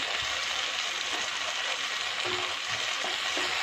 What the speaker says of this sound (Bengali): এবারে ঝিঙে আর তোমার বেগুন ভাজাটা দিয়ে দিলাম, যেটা হালকা করে ভেজে রেখেছিলাম।